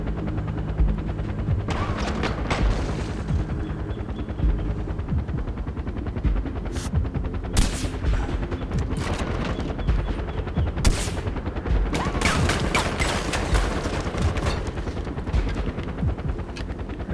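Gunfire in the video game Far Cry 4 while shooting at a pilot: sustained automatic bursts and repeated loud shots throughout, with sharp cracks and booming impacts over a constant rumbling background.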